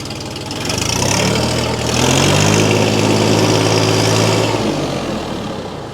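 A heavy diesel engine of a 24-horsepower Fighter T254 tractor idles close by, a loud steady low chugging rumble that swells slightly in the middle before easing off.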